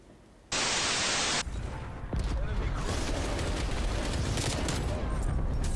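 Rapid automatic gunfire from the FARA 83 rifle in a shooter video game, a dense, loud rattling burst that fills most of the clip, preceded by a brief block of harsh static.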